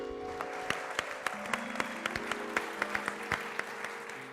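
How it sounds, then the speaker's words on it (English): Audience applause after a theater troupe's performance at the Theater of Public Policy, with scattered individual claps standing out over a steady patter while a low hum and tones sit beneath, no voices. "Please, big round of applause for them."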